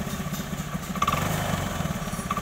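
A Honda Beat motorcycle engine revs under throttle, a close, loud, pulsing mid-pitched drone that swells and holds without any talk.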